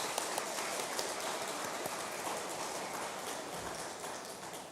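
A church congregation claps in a steady, dense patter of applause that carries on evenly throughout, fairly soft and with no speech over it.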